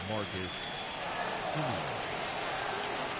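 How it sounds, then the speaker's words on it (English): Stadium crowd noise from the baseball video game MLB The Show 21, a steady dense roar that stays loud throughout, with a commentator's voice talking over it. "Wish I could just silence the damn crowd."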